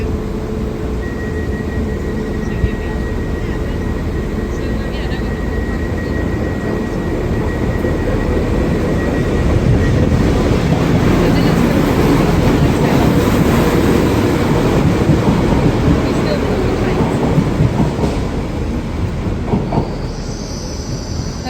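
Avanti West Coast unit 197050 runs along the line toward Chester, a steady loud rumble of wheels on track heard from on board, with faint squeals and rattles rising and falling throughout and no voices.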